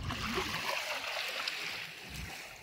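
Water rushes and washes in a steady wash, like surf breaking nearby, with a faint voice in the background.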